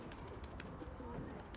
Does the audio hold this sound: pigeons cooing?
yes